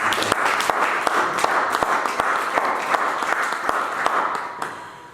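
A church congregation applauds together, a steady wash of many hands clapping with sharp individual claps standing out, fairly loud and continuous before tapering off at the end.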